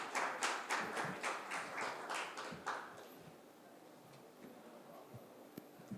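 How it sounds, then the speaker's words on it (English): A handful of audience members clap briefly at an industry marketing conference panel, distinct close claps that stop after a few seconds, leaving quiet room tone with occasional small taps. "Can we have a round of applause, please?"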